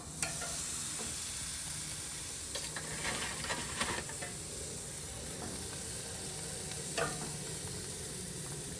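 Steaks sizzle on a grill in a steady, close crackling hiss that runs throughout, with a few sharp pops and ticks scattered over it and no talking.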